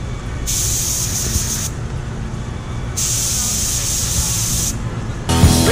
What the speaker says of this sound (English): we're gonna shoot some clear on them